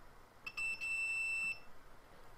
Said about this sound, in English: it beeps when we connect it here.